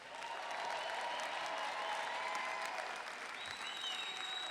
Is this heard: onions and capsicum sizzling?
no